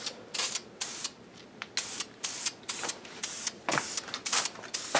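Short repeated bursts of rattle-can spray paint lightly misting a ghost coat onto a Chevrolet Z28 air cleaner, about a dozen hissing puffs in an uneven rhythm, close and clear with no talking.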